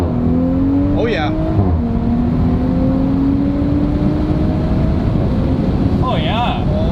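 An Audi S4 B9 fitted with a new downpipe pulls hard under acceleration, its engine drone rising steadily in pitch with wind rush over it, while people in the cabin speak briefly at the start and end.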